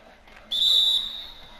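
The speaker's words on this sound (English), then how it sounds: "Is that, yeah. It's the whistle." A referee's whistle in the NBA 2K21 basketball video game sounds one sharp, steady high blast lasting about half a second over quiet game-room noise.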